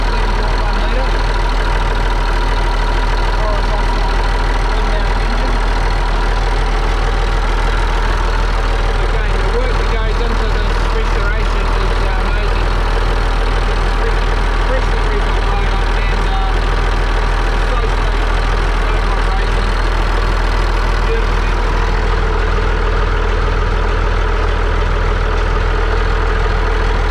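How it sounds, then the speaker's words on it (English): A freshly rebuilt 11.1-litre Leyland 680 diesel engine in a 1979 Leyland Leopard bus idles steadily and close by, a constant low rumble with a deep hum, running alone without talk. "I'm lucky enough to have a look at the Leyland 680 engine here running"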